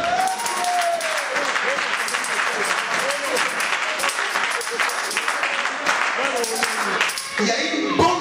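A church congregation applauds and cheers for Jesus in a steady, dense roar of clapping that fills the whole stretch, with voices calling out inside it.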